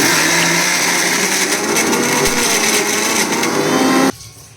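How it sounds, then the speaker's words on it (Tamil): An electric mixer grinder chops cooked soya chunks with onion in a loud, steady, high-pitched whir close up, then stops abruptly near the end. "இப்போ இதை வந்து நம்ம மிக்சியில் வந்து டெர் பண்ணி எடுத்துக்கலாம்."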